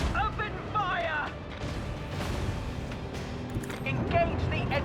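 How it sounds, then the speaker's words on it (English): Macro cannon fire from a voidship in Warhammer 40,000: Rogue Trader booms and rumbles in a dense, sustained barrage, with voices speaking over the heavy battle din. "Macro cannon. Open fire."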